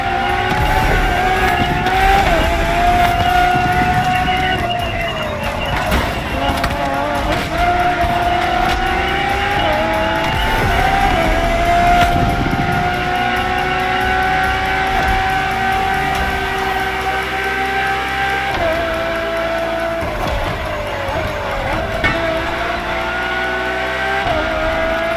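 A Ferrari road-legal Formula One-style supercar in The Crew Motorfest drives continuously with a loud, sustained engine tone that shifts pitch as it accelerates and eases off, heard alone without talk.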